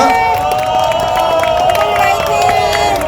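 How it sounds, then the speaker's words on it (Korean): A crowd at a candlelight protest rally in Suwon cheers and applauds steadily, a dense wash of clapping and shouts under what sounds like music or amplified voices, continuous and fairly loud throughout. "큰 박수로 모시도록 하겠습니다."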